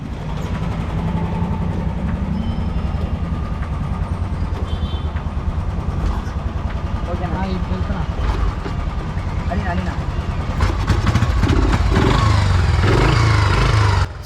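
An old, rusted Royal Enfield Bullet 350 thumps steadily through the whole stretch, idling close by with a loud, even engine rhythm that swells slightly toward the end.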